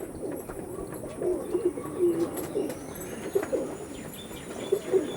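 A young Andhra pigeon pair, a dark-headed male and a light-headed female, gives soft, repeated low coos close by, with light rustles and a possible brief flutter and no talk.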